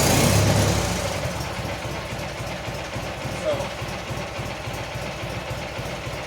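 A Magnum engine idles after a cold start, fitted with an electric fuel pump, its low, even pulsing throb running steadily close by while someone briefly speaks over it.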